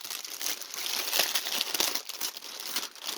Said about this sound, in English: It comes in one of the crinkly bags.